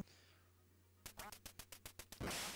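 In the Duck Hunt video game, a rapid run of about eight clipped, evenly spaced quacks rings out loud and close, then gives way to a burst of noise.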